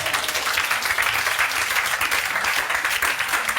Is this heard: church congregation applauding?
yes